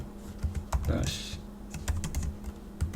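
Keys clatter briefly on a computer keyboard as a Linux terminal command is typed on an Arch Linux system, a short run of soft, close taps under faint background hum.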